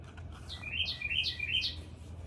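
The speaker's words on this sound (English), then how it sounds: "Do you hear the birds?" Birds singing outdoors, a short run of bright chirping phrases repeating a few times over a low background rumble, moderately near.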